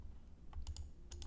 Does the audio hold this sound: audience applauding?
no